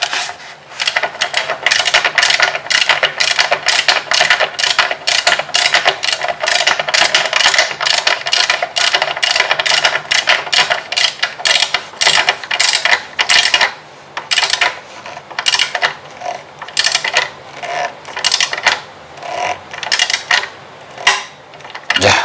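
Torque wrench tightening bolts on a carbon cover of an Akrapovic muffler fitted to a Honda Monkey, a rapid series of loud sharp metallic clicks close by, continuing steadily and then thinning into scattered bursts.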